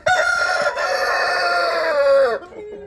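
A hen in a backyard flock gives a loud, drawn-out crowing-like call close by, holding steady for about two seconds before breaking off, with a soft cluck at the start.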